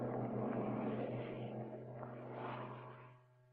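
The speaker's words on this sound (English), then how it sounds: "The aircraft is accelerating to a takeoff speed of 139 knots under its own power." An aircraft accelerating under its own power toward a 139-knot takeoff speed while sliding in a single-track guide rail, a steady droning engine hum with a low tonal buzz that swells and then fades toward the end.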